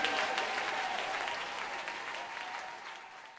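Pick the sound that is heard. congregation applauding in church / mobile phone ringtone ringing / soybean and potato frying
congregation applauding in church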